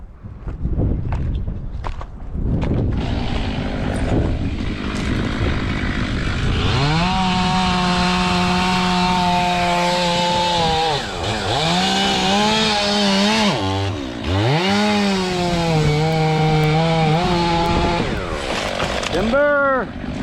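A chainsaw fells a big pine tree, revving in long sustained cuts that dip and surge as the bar bogs in the wood, loud and close, with footsteps crunching before the cutting starts.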